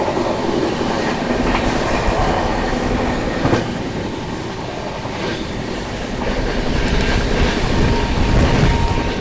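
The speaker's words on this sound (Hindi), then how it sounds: "और अभी जो है वो सीमांचल एक्सप्रेस क्रॉस होने वाली है।" The Seemanchal Express passing close by, heard from aboard the Vikramshila Express: a loud continuous rumble with rhythmic clickety-clack of wheels over rail joints throughout.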